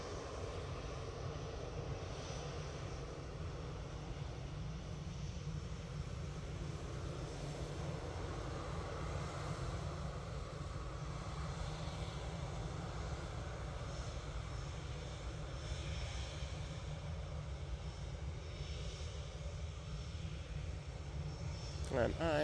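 Steady low engine rumble of an EasyJet airliner rolling onto the runway at Manchester Airport, a continuous broad drone holding at an even level throughout, with faint voices in the background.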